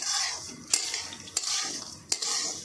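Sesame seeds and dry fruits roasting in a pan on medium heat for date laddoos, stirred steadily with a soft dry rustle and scrape, three sharper clinks of the spoon against the pan, no voices.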